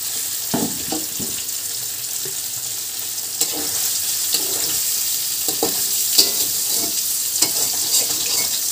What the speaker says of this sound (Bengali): পনিরগুলো হালকা লাল লাল করে ভেজে নেব।